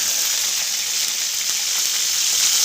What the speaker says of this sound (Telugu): ఇవైతే రెడ్గా ఫ్రై అయిపోయాయి ఇప్పుడు కరివేపాకు అయితే యాడ్ చేస్తున్నాను